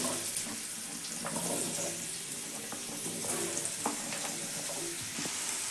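Chopped carrot, radish and chili vegetables sizzle and crackle in hot oil for a Punjabi pickle, with bursts of spattering and stirring clatter over a steady frying hiss.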